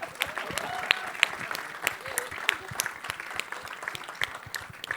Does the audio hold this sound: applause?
yes